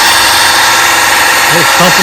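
A 1957 Evinrude 18 HP outboard motor with a rebuilt gearcase and new impeller runs in a water-filled test barrel, a loud, steady buzzing drone throughout with a brief whine near the end.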